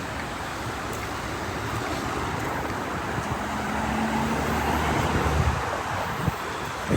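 Busy Hamburg street traffic rolls past, a steady wash of road noise and passing vehicles heard from aboard a bus, moderately loud, with a deeper engine hum swelling midway.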